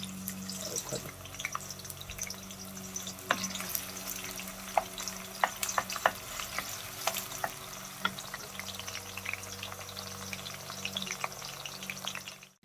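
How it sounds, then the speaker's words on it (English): Chopped onions frying in oil for a corned beef stew, a steady crackling sizzle with scattered sharp pops and occasional stirring clatter, close and moderately loud with no talking. "I'll add some of my onions, the chopped one very nicely."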